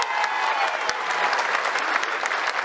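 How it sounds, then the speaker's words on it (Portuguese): A crowd at a public event with the governor in Maragojipe gives a round of loud, steady applause, with sharp individual claps standing out throughout. "na salva de palmas"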